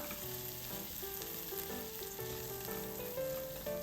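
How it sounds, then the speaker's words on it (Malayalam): Chopped green chillies and ginger fry in a pan for oats upma, giving a steady close sizzle with faint clinks of stirring. No one speaks over it. "ഇതിലേക്ക് കട്ട് ചെയ്ത് വെച്ചിട്ടുള്ള പച്ചമുളക് ഇട്ടുകൊടുത്തു കട്ട് ചെയ്ത് വെച്ചിട്ടുള്ള ഇഞ്ചി ഇട്ടുകൊടുത്തു"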